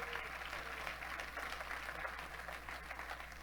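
Applause from a church congregation during a sermon, clapping that is faint and distant over a low steady hum.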